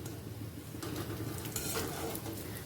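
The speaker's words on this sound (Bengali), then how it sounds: "মাছের ডিম ভাজা করতে গেলে এরকম একটু তেলে একটু এই ফোঁপড়া ভাবটা কিন্তু আসবেই" Fish roe fritters fry in a pan of oil, a soft, steady sizzle close by with faint scraping stirs and light metallic clinks of a utensil, no talking.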